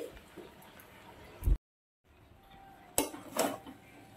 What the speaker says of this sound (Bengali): নাড়িয়ে চাড়িয়ে নিচ্ছি একটু